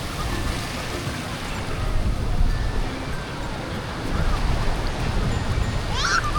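Ocean waves wash onto the shore at a beach in Nasugbu, Batangas, a loud, close, churning roar that swells and surges with wind buffeting the microphone, and voices chatter briefly near the end.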